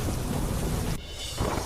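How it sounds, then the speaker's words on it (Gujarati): Heavy monsoon downpour with thunder in Didwana district, Rajasthan: a loud, dense roar of rain and rumbling thunder that drops off abruptly near the middle, then swells back, with no voices. "રાજસ્થાનના ડીડવાના જિલ્લામાં પડ્યો મુશળધાર વરસાદ"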